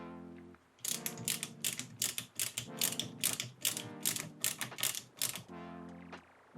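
Screws and nuts on a go-kart assembly are tightened with a ratcheting tool, giving rapid bursts of clicking in quick repeated runs, close and fairly loud.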